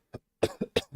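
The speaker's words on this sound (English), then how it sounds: "Let's try to get rid of this cough." A person coughs several times in quick succession, close to the microphone: one short cough, a pause, then three or four harsh bursts in a rough rhythm, with no talking.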